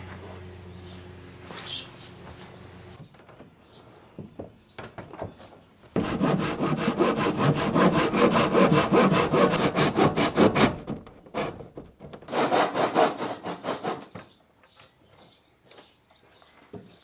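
A handsaw cutting through wood, sectioning an oversized roof outdoors: loud, steady back-and-forth strokes in two long close bursts with quieter scraping between, and faint birdsong in the background.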